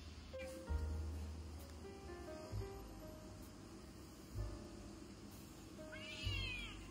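A cat meows several times up close, soft separate mews spaced a couple of seconds apart against a quiet indoor background.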